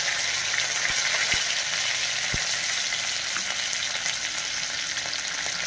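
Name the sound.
curry leaves sizzling in hot oil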